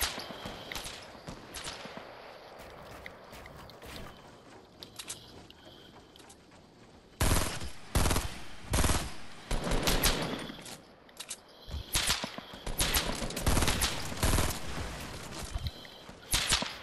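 Video game firefight with gunfire and rockets: dense bursts of rapid shots and heavy blasts, loud and continuous, intensifying in the second half with sharp repeated volleys.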